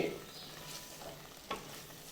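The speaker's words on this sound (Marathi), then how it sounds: "शेवटी कढीपत्ता घालून घ्या आणि हे सगळं मिसळून" Prawns ghee roast, a Mangalorean dish, stirred with curry leaves in a pan, giving soft sizzling with scraping spoon strokes and a sharper clink near the middle, moderately close and without speech.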